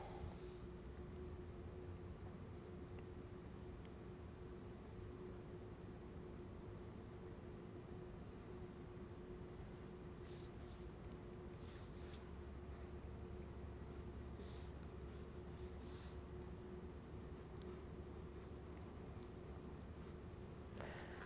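Pencil sketching a face on paper, a soft continuous scratching and rubbing of graphite strokes, close and steady over a faint background hum.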